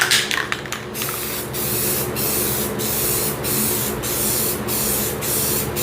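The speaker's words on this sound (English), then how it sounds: "let's go ahead and hit everything with the clear coat that we have so far" Spray can laying a clear coat over spray paint art, a loud close continuous hiss interrupted by brief regular pauses as the nozzle is released and pressed again, with no talking.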